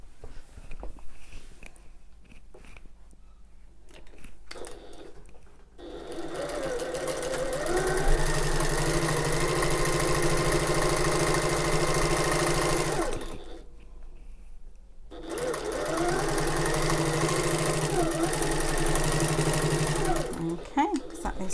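A sewing machine stitches a tote bag seam in two long, steady runs, loud and close, with a short pause between them and faint handling sounds before the first run.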